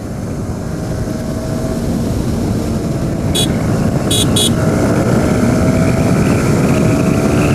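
A Yamaha R15 v3 and a Suzuki Gixxer SF 250 motorcycle accelerate hard through the gears side by side, a loud continuous engine roar with a rising tone that holds close and steady throughout.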